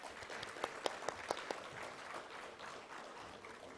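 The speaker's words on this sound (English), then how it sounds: "Let's give them a huge round of applause" Audience applause for a pension conference panel during a group photo, a dense wash of clapping with a few sharper claps standing out, moderately loud and steady for a few seconds.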